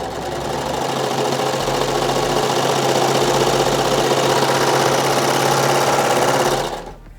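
A Baby Lock serger stitches stretchy Lycra knit activewear fabric, a loud, fast, steady mechanical chatter running close for several seconds before cutting off abruptly.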